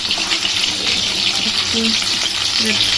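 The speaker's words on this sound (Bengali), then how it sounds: "একটু নাড়িয়ে নেড়ে দিচ্ছি যাতে কড়াই আটকে না যায়।" A whole 900-gram bhetki fish frying in hot oil in a wok while being stirred, giving a continuous loud sizzling hiss with occasional scraping and bubbling.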